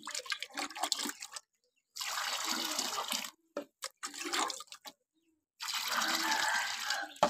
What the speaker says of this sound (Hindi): इनको डाल देते हैं मुर्गों को पानी इधर